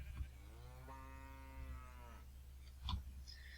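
Cow mooing in Skyfactory, a Minecraft modpack game: one long, clear drawn-out moo near the middle, followed by a couple of short soft game noises over a low background hum, with no talking.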